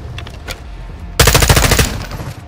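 Rapid machine gun fire in Modern Warfare 2, a dense burst of closely spaced shots that starts abruptly partway through, loud and close, then trails off, with faint gunfire earlier.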